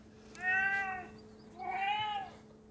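Two drawn-out meows from an anti-cat robot device that imitates cat cries, clear and fairly loud over a steady electronic hum.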